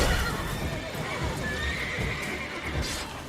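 Roach, the horse in The Witcher 3, gives a steady patter of hooves and a drawn-out whinny over a busy game backdrop, with the noise level constant throughout.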